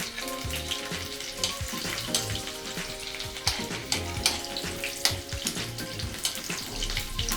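Garlic and ginger fry in oil alongside whole red chillies, a close, busy sizzle with scraping stir strokes and clinks, fairly quiet overall, with running water in the background and no talk.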